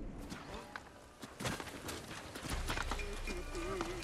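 Horse hooves clip-clopping in the samurai game Ghost of Tsushima, irregular close steps that grow heavier and more rhythmic toward the end, mixed with game music and brief voices.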